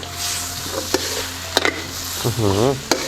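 Battered, fried squid roe being stirred in a sizzling pan for a stir-fry with lemongrass, with a steady frying hiss, sharp utensil clacks against the pan and a brief voice speaking near the end.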